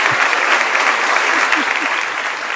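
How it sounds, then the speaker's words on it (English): A studio audience claps steadily to welcome a guest onto a show, a dense, loud wash of applause sustained throughout with a faint voice briefly audible underneath. "Give her a big, warm welcome. Let's do it. There we go. There we go. We're gonna clap."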